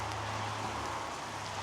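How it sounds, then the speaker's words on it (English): Rain falls during a winter hike on High Rigg in the Lake District, a steady, even hiss of light rainfall with faint low wind rumble and no voices. "Rain's coming down a bit now"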